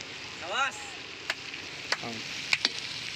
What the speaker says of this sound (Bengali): অশোকদা মাংস কষছে, মাংসের পেঁয়াজটা কষছে